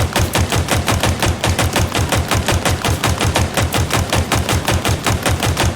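Sidekick pistol in Halo Infinite fired in a fast, continuous string of roughly thirty evenly spaced loud shots with punchy low thumps, alone without talk.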